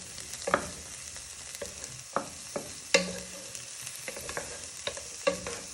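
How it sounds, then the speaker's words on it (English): Red onion and garlic frying in a pan for spicy rice, with a gentle background sizzle broken by several distinct clinks and scrapes of a utensil stirring, close and fairly quiet, no voices. "So you just want to give them a little stir for a minute or two."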